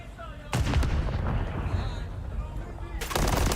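Rapid gunfire during a competitive Call of Duty League match, two loud dense bursts of shots with a short lull between them, under a faint commentator voice.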